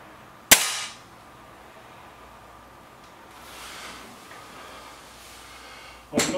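A Webley Xocet and an SMK B2 deluxe air rifle are fired outdoors. One sharp crack sounds early and a second sharp crack comes near the end, with quiet background rustle and faint wind between.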